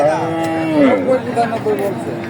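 A cow moos in a long, wavering call at a busy cattle market in Alampur, Kushtia, with steady crowd murmur and chatter around it, close and loud.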